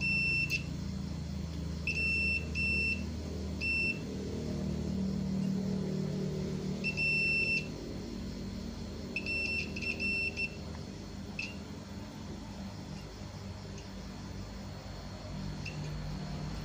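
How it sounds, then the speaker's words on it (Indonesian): A multimeter's continuity buzzer beeps as the probes test solder joints on a Polytron U-Slim TV board, sounding in short, high-pitched, irregular clusters over a steady low background hum. "kalau solderannya lengket maka akan bunyi buzzernya"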